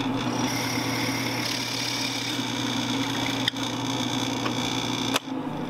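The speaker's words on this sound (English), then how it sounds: "here's the drilling of the tuner holes" A steady motorized whir of a drill boring tuner holes in a guitar headstock, running continuously, with a couple of brief sharp clicks near the end.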